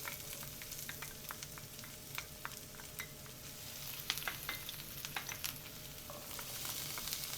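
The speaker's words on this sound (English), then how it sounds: "we add the green pepper and the onion to the oil" Green pepper and onion sauté in hot oil over medium-high heat, a steady close sizzle with scattered sharp crackles and pops throughout, no talking.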